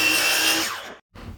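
A power saw finishes cutting the end off a wooden board, its loud whine dropping away over about a second, a brief silence, then quieter handling noise as the offcut is moved.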